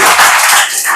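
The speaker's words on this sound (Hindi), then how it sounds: "जोरदार तालियों से स्वागत" A roomful of students in a tuition class bursts into a brief, dense round of clapping, loud and close, lasting only a moment.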